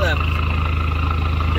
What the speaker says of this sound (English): turbo spool in and spool out then.